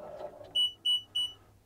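Three evenly spaced electronic beeps from a Bobcat machine's cab as actuator calibration begins once the door is shut, each tone clear and steady over a low idling rumble, following a brief muffled sound.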